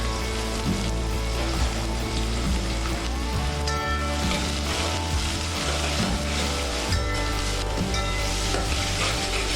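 Onions cooking in a pan until translucent for a one-pot prawn rice, a dense, steady crackling sizzle close by, continuous with small irregular pops and no voices.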